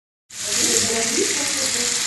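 Onion frying in butter with cinnamon in a tajine pot for a chicken tajine, a loud close sizzle that starts abruptly and holds steady as a hissing crackle.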